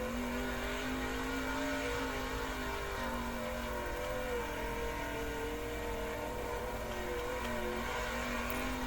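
A sprint car engine drones through a practice lap in the World of Outlaws racing game, holding a steady high-pitched roar with slight pitch shifts and no pauses or talk.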